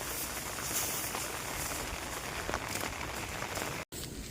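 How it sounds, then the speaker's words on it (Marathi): Steady rain falls on a farm, a dense even hiss of drops that stays constant throughout with no voices, cut briefly near the end. "पण पाऊस तर बघितलं तुम्ही कसा पडायला लागला आहे."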